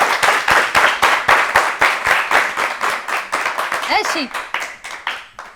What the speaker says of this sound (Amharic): አጨብጭቡላት ለማረማዊት